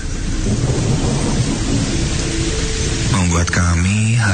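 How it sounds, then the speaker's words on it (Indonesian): Heavy rain pours in a loud, continuous roar with deep thunder rumbling through it, and a voice starts speaking over the downpour near the end. "hujan turun sangat lebat"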